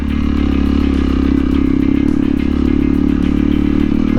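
A 2021 Honda CRF 300L motorcycle engine ridden off-road, a loud, close, steady single-cylinder drone with a fast rhythmic pulse that holds throughout.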